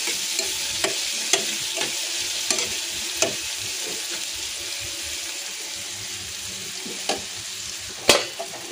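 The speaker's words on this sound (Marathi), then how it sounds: "टोमॅटो टाकलं आता टोमॅटो पण चांगलं फ्राय होऊ द्यायचं." Tomatoes fry in a pan for a chutney, a continuous bright sizzle broken by scattered spatula taps, with a louder clatter near the end and no talking.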